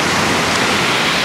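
Sea water washes onto a beach in a steady, loud, hissing surge that fills the moment without any voices.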